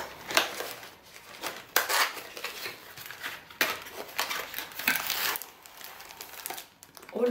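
Plastic wrapping around a store-bought iced cake crinkles and rustles close up in irregular bursts over several seconds, with faint quiet voices in the background.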